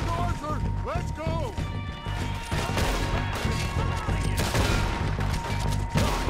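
Gunfire in the video game Red Dead Redemption II, a busy fusillade of repeated shots with mechanical clicks and crashes under game music, plus a brief shouted voice, loud and dense throughout.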